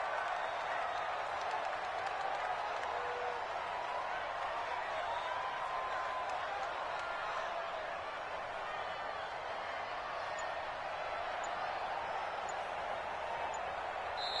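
Stadium crowd in an American football video game building up before a big third down, a dense, constant roar of cheering that stays loud and steady throughout, with no speech over it.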